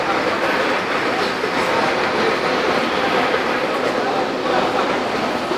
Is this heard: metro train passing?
yes